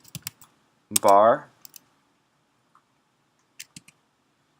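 A computer keyboard is tapped to enter a terminal command, a few light, quick clicks in two short bursts, close and quiet, with a brief spoken word between them.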